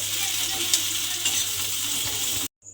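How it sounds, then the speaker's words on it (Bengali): Onions frying in oil until browned make a dense, steady sizzle at close range, with a few stirring scrapes, before cutting off abruptly near the end. "দিয়ে পেঁয়াজগুলো লাল করে ভেজে নেব। মানে পেঁয়াজগুলো বেরেস্তা মতো করে ভেজে নিতে হবে।"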